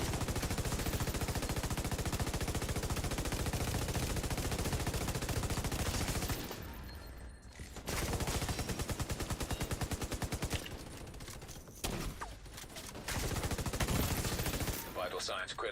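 Sustained suppressing gunfire in a video game, rapid loud automatic bursts rattling on for several seconds, then a brief pause before more shooting resumes in shorter bursts.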